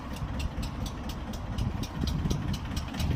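A Bulat 244 mini tractor engine runs at a steady idle, a continuous low rumble with a faint rhythmic knock, fairly close and without talk.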